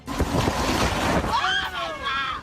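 Strong hurricane winds roar and buffet across a storm-hit area of Louisiana, a loud continuous rush with gusting surges, and a faint tonal whine rising near the end.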